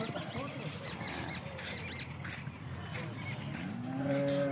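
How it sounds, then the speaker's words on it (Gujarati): Two freshly calved cows, one black and one spotted, give low, drawn-out moos close by on a farm. The calls rise through the sound near the end, with faint background bustle and no clear speech. "બે ગાયો આવી છે. બંને ગાયો તાજી વિયેલી છે."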